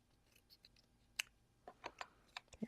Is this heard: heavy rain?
no